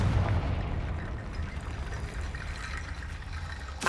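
A Confringo spell blast goes off in Hogwarts Legacy as a dense, rumbling burst that opens loud and decays into a long roaring wash, with a sharp crack near the end and no voices.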